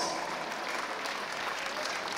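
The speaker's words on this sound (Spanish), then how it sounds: "fuerte los aplausos para ellos, fuerte, fuerte los aplausos" Wedding guests applaud steadily as a newly married couple is presented, a dense, even wash of clapping from a crowd in a reception hall, with no gaps across the stretch.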